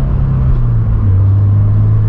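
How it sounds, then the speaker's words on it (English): A 2022 Subaru BRZ engine drones at low pitch through an HKS Spec L exhaust, a deep muffled rumble that holds steady and shifts slightly downward in tone. "I think this car could sound a lot better with a better quality exhaust."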